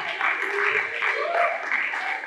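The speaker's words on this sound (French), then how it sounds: "Sous vos applaudissements, auguste assemblée" An audience at a finale event keeps up a steady wash of applause. The dense, even clapping is mixed with crowd voices and stays at the same level throughout.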